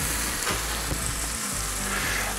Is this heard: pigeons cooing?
no